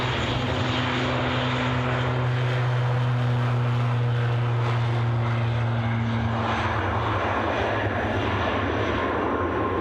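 A Loganair airplane departing Edinburgh Airport, its engine drone steady and fairly loud with a low hum and tonal whine, heard alone outdoors without talk.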